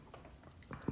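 Crunchy homemade Depression-era dill pickle being bitten and chewed close up, a few soft crunches ending in one louder, sharp bite.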